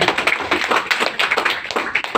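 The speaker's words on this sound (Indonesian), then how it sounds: "Tepuk tangan buat Kanggeng Water" Audience applause at a presentation, a dense run of many hands clapping close by, lasting about two seconds with no talk on top.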